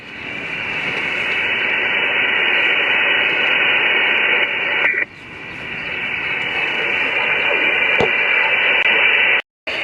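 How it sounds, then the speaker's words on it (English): A ham radio signal splatters across the band, a loud, sustained buzzy hiss of distorted transmission heard through a portable radio with a whip antenna. The hiss briefly dips around halfway and cuts out just before the end. "This guy splattering across the band."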